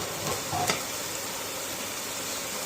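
Garlic frying in oil in a pan for an Assamese khar dish gives a steady, close hiss of sizzling, with one short, louder crackle partway through and no talking.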